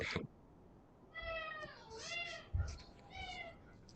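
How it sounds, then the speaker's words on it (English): A loud male house cat meows repeatedly in long, drawn-out cries over a faint hum of room noise, close to the listener. "Kitty. Yeah, he's very loud."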